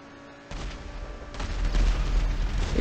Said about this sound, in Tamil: இதில் வேறு நம்ம முன்னாடி வேறு காரு கார வேறு வெடிச்சு போயிட்டான்